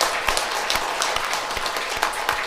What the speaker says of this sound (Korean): 우리 박수로 격려합시다